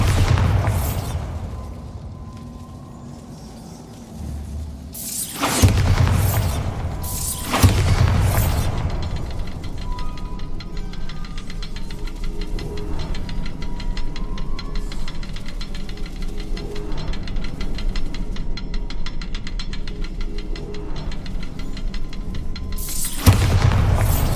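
Booming spell explosions from the Bombarda curse in the video game Hogwarts Legacy, with several loud blasts rising over a steady rumbling game ambience and a final boom near the end.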